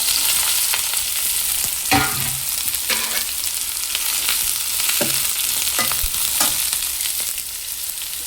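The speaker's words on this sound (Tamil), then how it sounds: "இப்போ இது கூட கட் பண்ணி வச்சுருக்கிற வெங்காயம், கேரட், பீன்ஸ், கொத்தமல்லி இது எல்லாத்தையும் ஒன்றடியாகவே சேர்த்துடலாம்." Chopped onion, carrot, beans and coriander sizzle steadily in a hot pan while a utensil scrapes and stirs with occasional clacks against the metal, with no talking.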